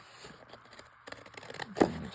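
Scissors cut around paper gears for an Easter junk journal cover, making faint, quiet snips and scrapes that end in one sharper cut.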